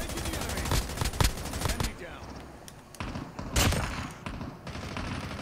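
Rapid bursts of video game gunfire crackle in quick clusters, dense and fairly close, with louder volleys around the middle, mixed in with players talking over voice chat.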